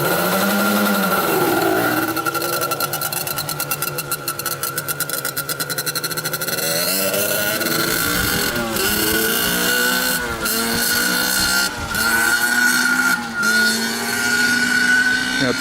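A Yamaha Banshee ATV's two-stroke engine revs hard on a quick ride, with rapid rising and falling pitch sweeps and several sharp throttle blips. The sound is loud and close, and no voices are heard.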